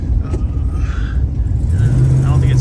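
A 1971 Plymouth rolls slowly over a bumpy road crossed by tree roots, its low engine rumble steady up close and swelling slightly as it moves on, with no talk.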